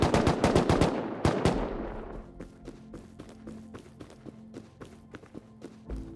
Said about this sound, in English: One just came out. AK, I think.